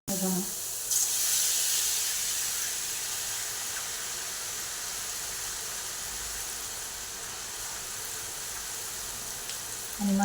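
Motichoor laddu boondi frying in hot oil over a medium flame, heard as a steady, soft sizzling hiss that lasts throughout, near and fairly quiet.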